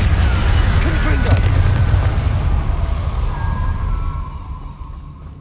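A Confringo fire spell goes off in Hogwarts Legacy with a loud, rumbling explosion. Its crackling burst gradually fades over several seconds, and a brief voice sounds near the start.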